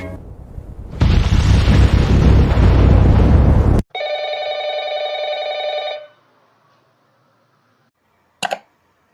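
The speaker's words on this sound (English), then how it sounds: "Does everybody remember the MAGA Diet Coke bomb?" Explosion sound effect for a Diet Coke bomb: a loud, sustained roaring blast lasting a few seconds that cuts off abruptly, followed by a steady ringing tone and later a brief sharp double burst.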